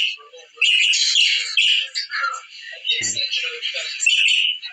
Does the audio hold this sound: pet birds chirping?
yes